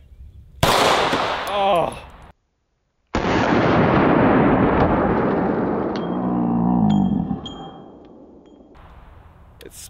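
SAR9 X semi-auto pistol covered in mud, firing: a sharp loud report followed by a longer booming crack with echoing decay, separated by a moment of silence, with a person briefly exclaiming.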